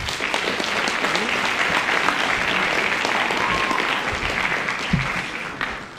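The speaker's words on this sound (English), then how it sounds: "A round of applause, please." Sustained applause from an audience at a high school winter band concert in Wantagh, a dense, steady wash of many hands clapping that carries evenly for several seconds before tapering slightly at the end.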